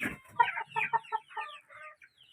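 Hens clucking in a backyard chicken house: a quick run of short, close clucks and chatter that thins out toward the end, with no talk over it.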